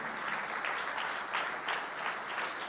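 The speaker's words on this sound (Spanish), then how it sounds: "Fuerte ese aplauso de alabanza al Señor" Church congregation clapping in praise, a dense steady applause with rhythmic swells, sustained and even across the whole moment.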